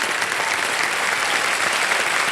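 A studio audience on the KBC quiz show claps loudly and continuously, a thick wash of applause filling the room without any voices on top.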